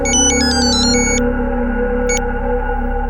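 A telephone rings with a repeating electronic ringtone of bright beeping bursts, followed by a pause and one short final chirp, over a steady background hum in a dramatized crime scene.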